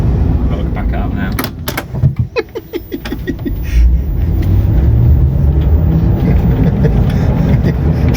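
An electric Reliant Regal Supervan backs up with a low motor whine under rattles, clicks and a quick series of ticking knocks, close to the microphone, as people talk nearby.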